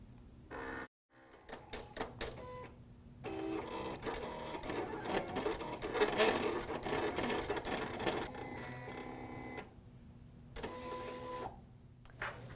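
Silhouette cutting machine slicing vinyl on a cutting mat, a busy stream of whirring motor runs and rapid clicking carriage movements with brief pauses, close and moderately quiet, no speech.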